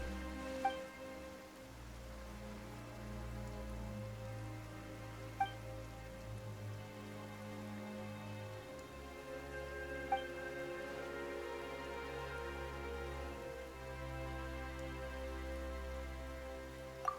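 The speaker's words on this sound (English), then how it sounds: "Why is it raining all of a sudden?" Steady rain pattering on a surface in the video game Genshin Impact, with a low droning background and a few faint clicks, no voices.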